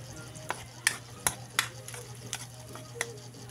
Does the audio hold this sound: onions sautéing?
yes